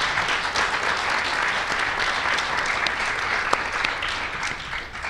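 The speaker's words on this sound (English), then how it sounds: "Let's give our teams a big round of applause." A studio audience gives quiz show teams a sustained round of applause at a 2012 Texas quiz show. The clapping is dense and steady from start to finish, with no voices above it.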